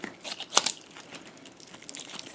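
Crinkly crunching as a squishy toy with a hard rubbery interior is cut open, a sharp burst of crackle followed by faint scattered crinkles, close and quiet, no talking.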